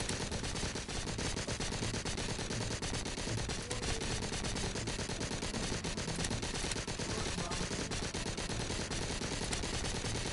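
Dense, continuous automatic gunfire from the VR zombie shooter Arizona Sunshine, rapid bursts packed together at steady loudness for the whole stretch, with no talk over it.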